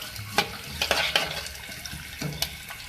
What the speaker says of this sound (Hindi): तेल में आपने प्याज को फ्राई करना है।